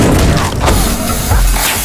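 A thrown gas bomb lands with a loud, dense thump and crash that fills the whole moment, heavy low rumble and noisy impact without talk.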